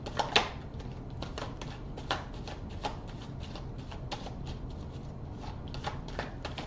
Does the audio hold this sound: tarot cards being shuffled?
yes